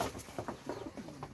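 Pakistani teddy pigeons give soft, faint coos and short murmuring calls close by, in quick uneven bursts with no talk.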